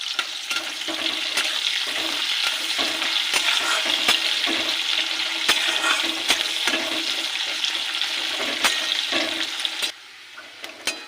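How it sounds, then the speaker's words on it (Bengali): Chopped onion fries in hot oil, a steady dense sizzle with scattered sharp crackles and pops and occasional stirring scrapes, cutting off to quiet near the end. "পেঁয়াজ কুচিটাকে ভেজে নেব।"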